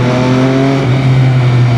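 MV Agusta Superveloce 800 three-cylinder sportbike engine revving up loud and close, a smooth harmonic drone whose pitch climbs briefly, with no voices over it.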